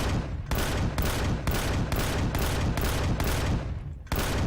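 Turret gunfire in the space survival game Empyrion: Galactic Survival, aimed at a Xenu fortress: a dense, loud fusillade of repeated bursts with brief gaps, close and continuous, with no talk over it.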